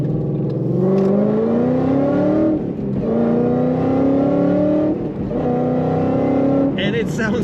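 A 2012 Ford Mustang GT coupe with a six-speed manual drones from inside the cabin while driving, its engine note rising through gears in three long climbs with brief dips at each shift, steady and fairly loud.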